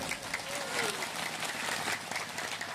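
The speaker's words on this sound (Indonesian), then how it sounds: "Tepuk tangan dulu dong." A crowd at a Ramadan religious gathering in a village breaks into dense, sustained applause, a soft wash of many hands heard from a distance with faint voices mixed in.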